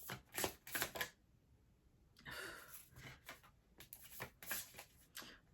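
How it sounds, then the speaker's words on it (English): A deck of cards is shuffled in several quick riffling bursts, close and crisp, with short pauses between them. "Can I shuffle a little bit before cards just flip?"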